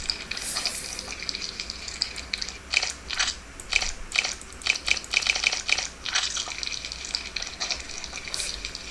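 In the Slime Simulator game, slime is mixed with a run of wet, squishy clicks and squelches in quick irregular bursts over a constant hiss, loudest in the middle stretch.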